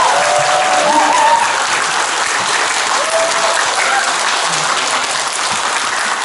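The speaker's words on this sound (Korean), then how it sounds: "박수 한번 부탁드리겠습니다." People at a women workers' discussion meeting clap, a close, dense round of applause that holds steady before easing off slightly at the end, with a faint voice underneath.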